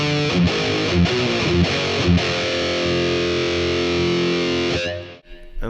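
Heavily distorted electric guitar through a Boss Katana-100 MK2 combo amp preset, loud and close, chugging riffs giving way to a sustained ringing chord that cuts off near the end.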